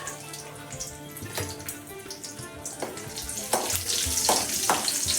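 Raisins dropped into hot ghee in a home kitchen while making a rural-style sweet potato kheer, giving a steady close sizzle and crackle with bursts of louder spitting toward the end.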